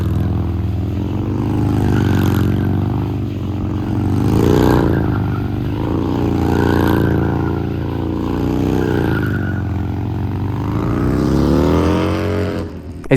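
A car engine revs and surges steadily while drifting, its loud, rising and falling drone holding close and continuous, with no talking over it.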